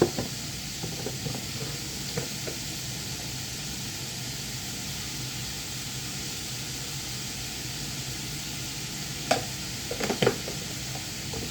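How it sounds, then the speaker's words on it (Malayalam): Onion masala with salt sautéing in a pan for paneer butter masala gives a continuous hissing sizzle, close and even, with a few sharp clicks of a spoon stirring near the end and no talking. "ഉപ്പിട്ട് കൊടുത്ത് ഇനി വഴറ്റി എടുക്കാം"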